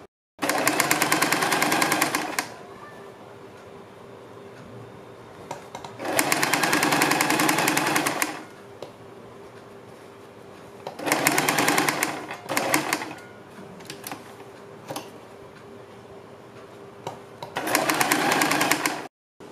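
A sewing machine stitching a kurti neckline runs in four loud bursts of rapid whirring, each lasting a few seconds, separated by quiet pauses with faint handling sounds.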